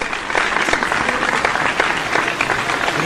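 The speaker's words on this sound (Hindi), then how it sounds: "भरपूर तालियों में इस्तकबाल कीजिए" A crowd at a cultural show's debate competition gives a speaker a warm welcome with continuous, even applause that fills the room from start to finish.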